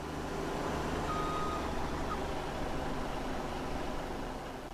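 A truck in Farming Simulator 17 gives off a faint, steady drone with a faint reversing beep, mostly buried in broadband engine and wind-like noise.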